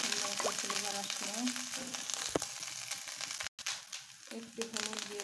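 Whole cumin seeds crackle and sizzle steadily in hot oil in a pan for chicken curry, a continuous frying hiss with a brief dropout partway through and occasional stirring clatter.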